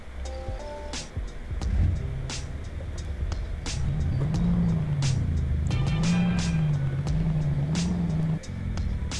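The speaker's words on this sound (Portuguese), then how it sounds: "Então vamos escutar o barulhão do motor." A modified racing Scania R truck engine in Euro Truck Simulator 2 drones loudly and steadily, its pitch rising and wavering as revs change, with a few sharp clicks over the rumble and no talking.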